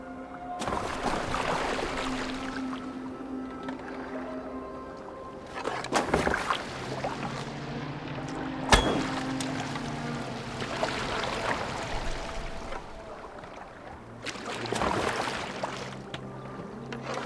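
A boat glides over water in Assassin's Creed Valhalla, with continuous splashing and water wash, creaking wood, and a few sharp knocks and thuds over a low ambient bed, with no speech.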